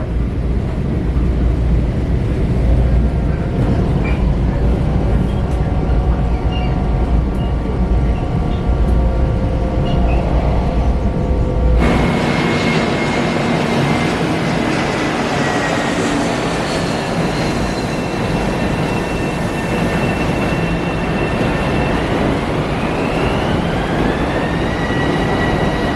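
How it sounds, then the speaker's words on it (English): A commuter train heading to Penn Station rumbles along the rails in New York, a loud continuous roar with steady low drone, the tone shifting midway as a rising whine joins in. "my train was going to Penn Station"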